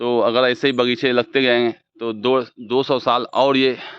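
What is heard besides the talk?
None of the usual background noises is heard.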